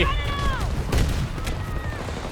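A shotgun fires in a first-person video game, used like a sniper rifle, with sharp gunshot bursts spaced across the moment while a voice talks over them.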